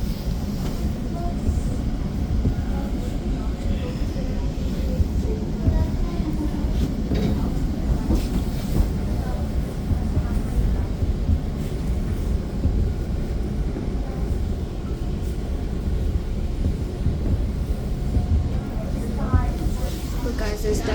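A TTC subway train rides between Islington and Kipling stations in Toronto, with steady low rumble and rolling wheel noise throughout, occasional faint squeals and clatter, and a voice talking over it at times.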